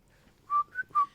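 Three short, clear whistled notes ring out in an almost completely dark room, the second one a little softer, with silence before them.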